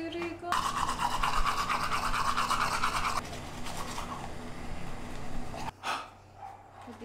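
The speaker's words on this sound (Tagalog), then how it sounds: "Nag-toothbrush na ako." Close brushing of teeth with a toothbrush, a loud continuous scrubbing that thins out partway, then stops, followed by quieter household sounds and a faint bark.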